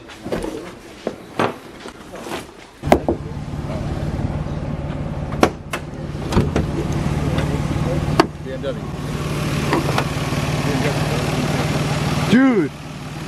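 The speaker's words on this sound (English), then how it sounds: "It's actually an Aristo with a exhaust leak." A Toyota Aristo engine idling with an exhaust leak, a steady close rumble that starts after a few knocks and clatters and runs under talk, with sharp clicks and a brief whine near the end.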